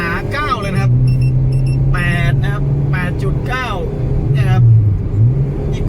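A stock, naturally aspirated Chevrolet car engine revs up and down in repeated throttle blips, loud and close, with someone talking over it throughout.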